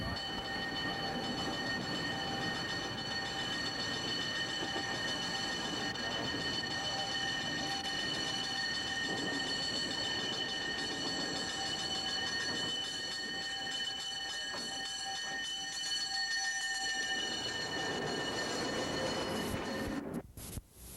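The Skunk Railroad scenic train runs through redwood forest between Fort Bragg and Willits, California, with a steady rolling rumble and high wheel squeal, heard alone and close for most of the run before it fades near the end.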